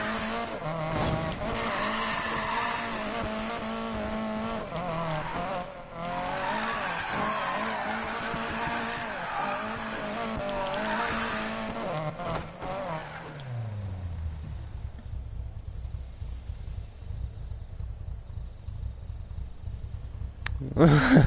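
Need for Speed Payback cars race and skid with revving engines and tire squeal for about thirteen seconds, then the action drops to a faint low hum, with a short burst at the very end.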